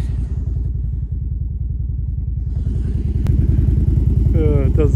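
A GMC truck engine runs after a NOCO jump start, a loud, close, rhythmic lumpy idle that struggles to settle, with a brief click and a dog's sound late in the clip.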